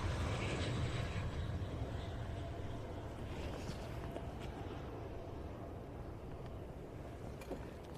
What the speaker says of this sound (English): So, on approach now, a rather unique aircraft, because this is a KC-135